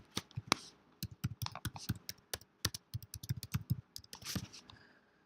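Fingers typing a passphrase on a computer keyboard: quick irregular runs of close, crisp key clicks with brief pauses between bursts, quiet and without speech.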